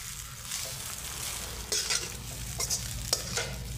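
Boiled rice being stirred in a hot pan for cashew pulao: a continuous soft sizzle under repeated scraping strokes of a spoon, with a few sharper clinks against the pan.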